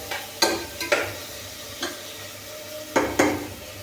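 Green chilies, onion and carrot sizzling in hot oil, with several sharp scraping stirs of a spoon against the pan, fairly close and moderately quiet.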